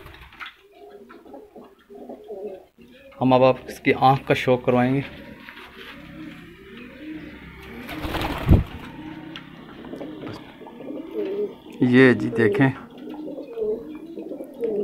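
Champion high-flying pigeons on a rooftop in Mianwali, soft throaty coos rising in short bursts while someone talks over them close by.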